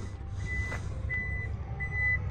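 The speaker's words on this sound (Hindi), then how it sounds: "इसका ये एक फ़ीचर है जो कि किक सेंसर के साथ ट्रंक ओपन होती है" A Toyota Corolla Cross 1.8 X power trunk, opened with its kick sensor, gives three steady electronic beeps at an even pace over a low rumbling background hum.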